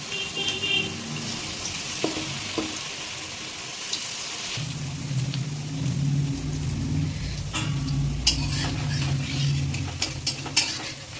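Cauliflower pieces coated for Manchurian fry in hot oil. A quiet stretch gives way to a steady, dense sizzle after a few seconds, with light clinks of the utensil.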